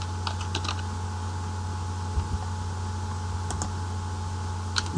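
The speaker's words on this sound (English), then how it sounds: "let's just type it out" Keys clatter on a computer keyboard while code is typed for a Java NetBeans tic-tac-toe program, scattered soft clicks in short bursts over a steady low hum.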